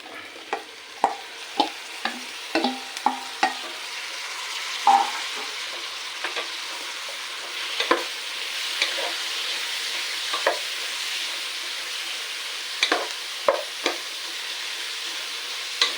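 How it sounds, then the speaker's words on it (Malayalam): Bitter gourd and onion fry in hot oil with a constant soft sizzle, punctuated by a string of crisp spoon taps and scrapes against the pan, busier at first and sparser later. "ഇനി ഇതിലേക്ക് സവാള ഗോൾഡൻ കളറിനാവണ്ട കാരണം ഇത് കയ്പങ്ങോട് കൂടി കിടന്നിട്ട് ഒന്നാവാനുണ്ട് അപ്പോൾ ഇനി കയ്പങ്ങ ഇട്ടെടുക്കാം"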